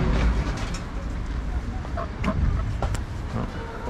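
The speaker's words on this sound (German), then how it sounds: "Hier werden lebende Hühner an der Straße verkauft." Live chickens for sale at a roadside stall in Albania cluck in short bursts amid steady outdoor street noise and passing traffic.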